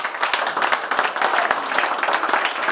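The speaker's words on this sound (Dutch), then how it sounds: "Geef ze nog een daverend applaus." Audience applause after a performance, a dense steady wash of many hands clapping at a fairly loud, even level throughout, with faint cheering mixed in.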